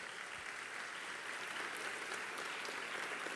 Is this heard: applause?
yes